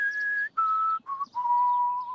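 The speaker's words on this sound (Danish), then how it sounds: "Man skal øve sig, før man kan fløjte." Lip whistling in long steady tones, broken by short pauses into about four sustained notes, each slightly lower in pitch, close and clear with no talking.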